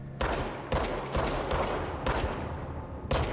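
Gunshots in the Control video game, several loud, close blasts fired in quick separate bursts with short gaps between them.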